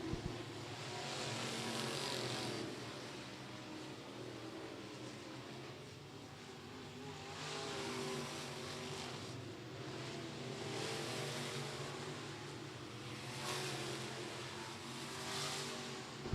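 Local-class race cars lap Florence Speedway during a qualifying time trial, their engines a distant, continuous roar that swells and fades as they circle the track.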